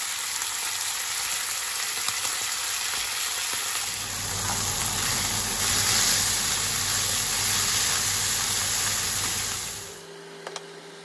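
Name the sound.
beef steaks searing in very hot oil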